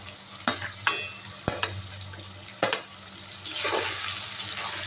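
Potatoes with ginger and garlic paste sautéing in a pan give a low sizzle that is broken by several sharp spatula knocks and scrapes, and the frying hiss swells louder toward the end.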